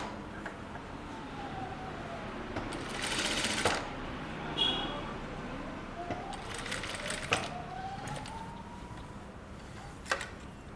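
A sewing machine top-stitching the lining of a boat-neck kurta, running in short bursts of rapid mechanical whirring separated by pauses, close up, with faint voice in the background.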